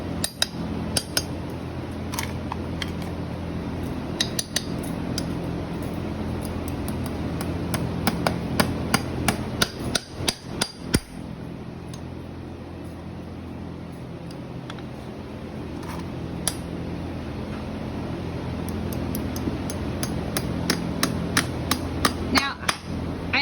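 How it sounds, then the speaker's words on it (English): A farrier drives nails through a horseshoe into a horse's hoof during corrective shoeing. Sharp, close metallic hammer taps come in quick rhythmic runs, pausing between bursts over a low background hum. "As they're nailing through, it's coming out the other."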